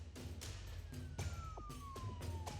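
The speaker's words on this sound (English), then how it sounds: "you can hear the sirens in the background" A police siren wails faintly in the distance beneath a steady rumbling background with repeated clattering bursts.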